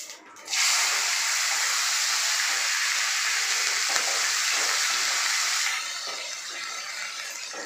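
Mustard seeds, ginger, green chili and curry leaves fry in hot oil for ginger upma, a loud, steady close-up sizzle with popping seeds that eases slightly toward the end.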